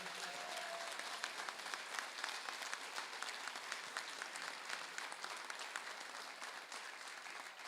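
An audience at a Yud Tet Kislev gathering applauding their rabbi, a steady, even wash of many hands clapping at a moderate distance.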